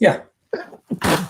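A single sharp human sneeze bursts out near the end of a short moment, preceded by a couple of brief vocal sounds, close and fairly loud.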